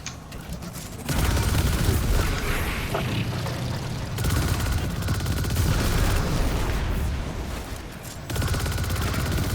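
Gunfire in a video game, a dense loud run of rapid shots and booms that keeps going almost nonstop, broken by brief gaps, with no talk over it.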